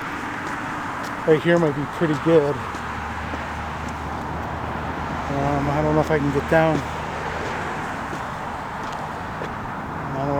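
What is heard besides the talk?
highway traffic noise nearby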